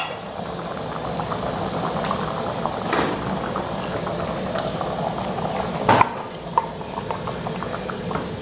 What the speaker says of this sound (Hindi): बॉईल हो रहा है